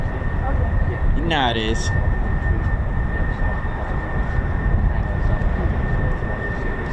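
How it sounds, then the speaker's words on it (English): An F-16CM single-seat fighter jet flying past at RAF Lakenheath, a loud steady roar with a rushing whine, while a voice speaks briefly over it. "It's our F-16 CM"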